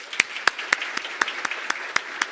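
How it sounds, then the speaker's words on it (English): An audience claps at a community awards breakfast with sparse, distinct claps at a steady rhythm, heard alone and fairly faint. "How about one more round of applause?"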